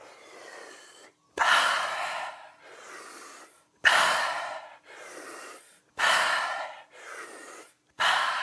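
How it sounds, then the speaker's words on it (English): Deep breathwork through the mouth, with a steady cycle of loud, close breaths in and out, each lasting about a second, separated by brief silences and repeated four times. "we're going to start breathing deep again. But this time, we're going to breathe in and out your mouth."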